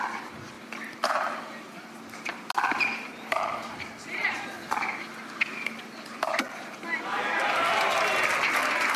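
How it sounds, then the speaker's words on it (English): Crowd applause at a professional pickleball match, a steady broad wash of clapping that swells toward the end, with a commentator talking over it and occasional sharp paddle pops. "you hear the crowd backing the local star"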